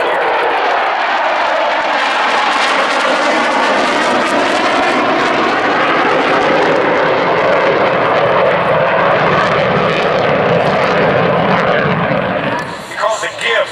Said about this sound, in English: Watch for the break as these two airplanes that are close together will set up for landing